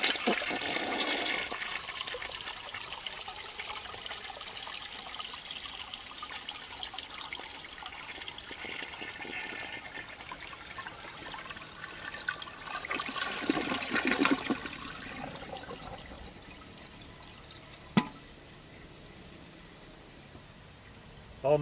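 A 1970 American Standard Cadet toilet flushes outdoors on a windy day, with a steady rushing, trickling water wash running for most of the clip, surging near the end before a brief click and a quieter refill.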